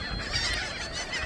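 Seagulls in a flock on a beach at North End, Villas, New Jersey, calling in a dense chorus of overlapping squawks and honks, close and fairly loud with no pauses.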